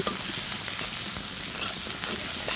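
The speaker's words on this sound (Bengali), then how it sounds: "গোটা জিরা দেওয়ার পরে এখানে দিয়ে দিচ্ছি কিছুটা পেঁয়াজ কুচি। এখন এটা সুন্দর করে কষিয়ে নেব।" Chopped onion and whole cumin sauté in hot oil for a shol fish bhuna, giving a steady, close, fairly loud sizzle with light crackles and a few stirring scrapes throughout, no voices.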